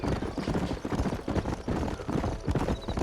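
Horses galloping in the video game Red Dead Redemption, rapid, close, rhythmic hoofbeats thudding continuously with a brief voice breaking in near the end.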